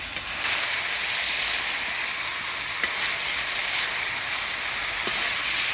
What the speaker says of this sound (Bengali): এবার ভাজিয়ে রাখা বৈলি মাছগুলো দিয়ে দিলাম। হালকা ভাবে নাড়াচাড়া করে নেব।